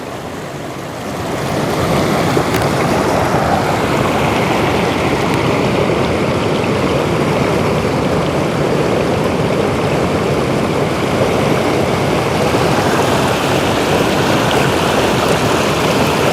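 Sadhery waterfall in Samahni pours steadily into a stream, a continuous broad rush of falling and flowing water close by, loud and unbroken with no voices.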